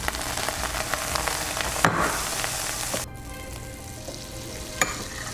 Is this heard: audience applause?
no